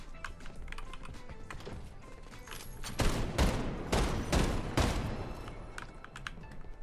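Rapid bursts of automatic gunfire in Fortnite, crackling in clustered volleys that swell louder mid-clip over a steady background of game noise, with no voices.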